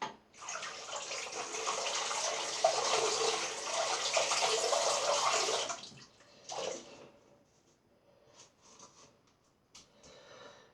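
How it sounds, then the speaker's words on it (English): A shaving brush is rinsed under a running tap, with a steady, close rush of water for about six seconds, then short splashes and dribbles as the flow stops. "let me just rinse this lovely little brush."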